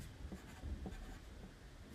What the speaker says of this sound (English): you want to put your name on the back of your paper